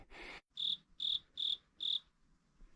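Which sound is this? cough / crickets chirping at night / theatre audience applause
crickets chirping at night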